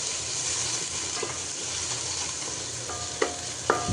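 Chopped garlic and onion sizzle steadily in hot oil in a home kitchen, with a constant frying hiss and a few sharp clinks of stirring near the end.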